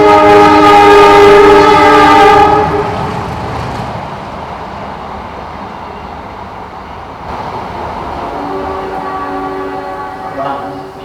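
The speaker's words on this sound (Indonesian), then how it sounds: "Kereta." A train passes with a loud, sustained horn blast for the first two seconds, followed by the rumble of railcars and a second, fainter horn near the end, all without speech.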